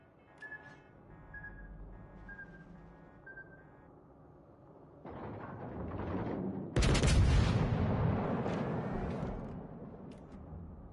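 Naval guns and artillery firing in a video game battle: faint electronic beeps give way to a rising rumble, then a loud, sustained burst of booming gunfire that rolls on heavily to the end.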